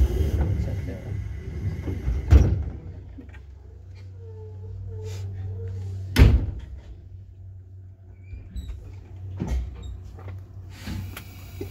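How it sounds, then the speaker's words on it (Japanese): Door-closing thuds on a Seibu Tamako Line one-man local train to Kokubunji, with two sharp impacts under a steady low hum and quiet cabin ambience between them. "ドアが閉まります。"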